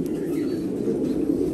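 Racing pigeons coo steadily in a low, throaty murmur, a close and continuous soft rumble with no break.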